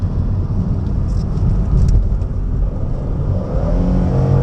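A Jaguar X-Type 2.5 V6 estate with an automatic gearbox accelerates on the road. A loud, steady engine rumble and whir sit close by, and the pitch rises toward the end as the transmission changes gear. No one speaks.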